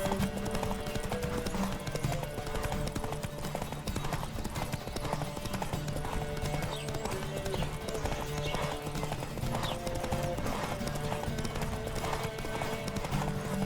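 Rapid rhythmic hoofbeats of galloping horses pound steadily throughout in The Witcher 3: Wild Hunt, with occasional snorts and whinnies, dense and continuous like a racing scene.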